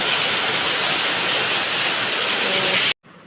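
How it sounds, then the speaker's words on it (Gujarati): Water rushes loudly and steadily through a broken, overflowing village river drain on the Ramtila river after heavy rain, filling the sound with dense hiss before it cuts off abruptly near the end. "તો જો અમારા ગામની નદીનું નાળું જુઓ તમે રામતીલા નદીનું નાળું છે તો આવું કંઈક તૂટી ગયું છે"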